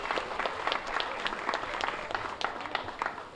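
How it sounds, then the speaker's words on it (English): Audience applause for a group of schoolchildren from AMI Kids at a morning public event by Vermilion Bay: a dense, steady wash of many hands clapping, close and sustained throughout. "How about a nice round of applause for AMI Kids?"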